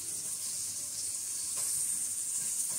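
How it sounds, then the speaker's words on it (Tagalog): Carrots sautéing in a pan give a steady, close sizzle that holds at an even level throughout, with faint stirring ticks. "At saka igisa natin yung carrots para naman hindi siya mag-overcook."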